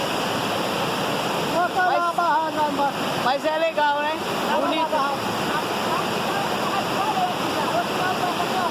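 A waterfall's rushing water roars steadily and loudly close by, and people talk over it for a few seconds.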